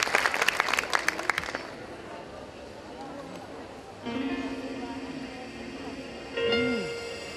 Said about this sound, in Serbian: molim vas aplauz za nju